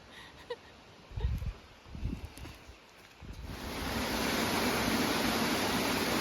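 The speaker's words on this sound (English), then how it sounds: "I can hear water." Running water on a hillside walk in Greece, first masked by footsteps and rustling, then swelling into a steady broadband rush of flowing water that fills the last few seconds.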